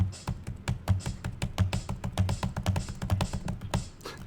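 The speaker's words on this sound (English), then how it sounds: "I'm using the keyboard shortcuts Control left and right there just to switch to between the sounds" Keyboard shortcut keys tapped in a quick, steady run of crisp clicks on a computer keyboard at an Amiga Protracker workshop, close and distinct with no talk.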